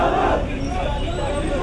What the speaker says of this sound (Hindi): हाथों में तिरंगा झंडा लिए हुए लोगों की भीड़ जो है